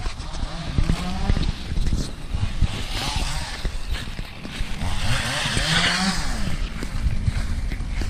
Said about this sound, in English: I hear a chainsaw.